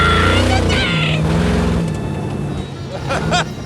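A revived Sidewinder racecar roars off the starting line at full throttle, its engine note climbing and shifting as it pulls away. The engine is loud and close, with a voice calling out over the launch.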